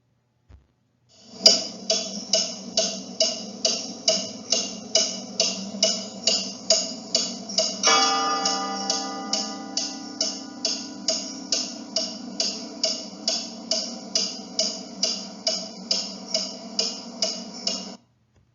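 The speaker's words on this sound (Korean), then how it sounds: "괴종시계 소리가 어떻게 들릴까요?" A grandfather clock ticks in an even, steady rhythm of sharp, identical knocks, close and clear, with a ringing chime swelling partway through and fading under the continuing ticks.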